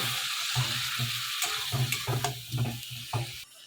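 Spice paste mixed with a little water is stirred in a pan, the spoon scraping in a series of rhythmic strokes over a soft, continuous sizzle.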